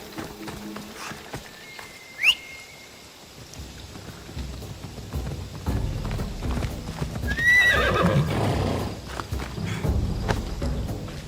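A horse clip-clops along and whinnies twice, sharp and close, in Assassin's Creed Odyssey. Hoofbeats build into a steady rhythmic trot, with a low rumble underneath and no talk.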